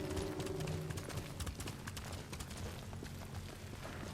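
Hoofbeats of a galloping horse in the samurai game Ghost of Tsushima, a steady rapid clip-clop running throughout under game music and ambience, fairly loud and close.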